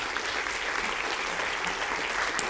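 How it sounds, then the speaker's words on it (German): An audience at a university day event applauds a prize winner on stage, sustained dense clapping from a full room at steady loudness with no voices. "Nochmals an dieser Stelle einen letzten herzlichen Applaus für die Preisträgerin auf der Bühne"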